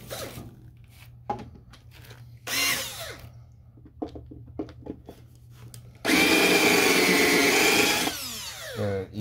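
A power drill whines in short bursts and then one long, loud run as it drills out a rivet on a Smart car high-voltage battery casing of aluminum, with clicks and handling noises between.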